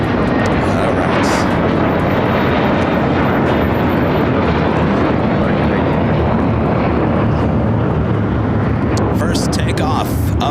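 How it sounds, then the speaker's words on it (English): An Air Canada Airbus A330-300 takes off from runway 25 right on the south side at LAX, a loud, steady broadband jet engine roar that holds throughout, with no talk over it. "Air Canada flight 776. It's an A330-300. Will be taken off here on the south side on 25 right."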